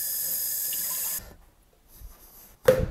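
Tap water runs steadily into a SodaStream bottle for about a second, then stops. Faint drips and a short clunk of handling follow.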